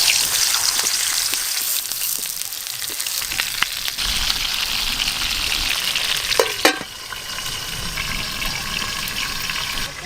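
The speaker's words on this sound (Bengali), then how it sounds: "তেল খুব ভালো করে গরম হয়ে গেছে, পুর ভরা পটলগুলো আমি ভেজে নেব ভালো করে।" Stuffed pointed gourds (potol) frying in hot oil, a close, dense sizzle with scattered pops and a brief clatter midway before the hiss settles and continues, no voices.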